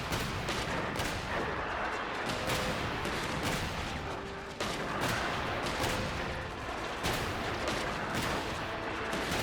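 Artillery and gunfire in the video game Genshin Impact, a dense run of rapid blasts and bursts that keeps going for several seconds with no pause and no speech.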